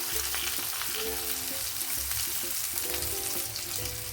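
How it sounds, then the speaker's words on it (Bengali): Boiled potatoes frying in hot oil for aloo bhindi, a continuous moderate sizzle with a soft bubbling hiss, no talking heard. "প্রথমেই আমি সেদ্ধ করা আলুটা লাল করে ভেজে নেব"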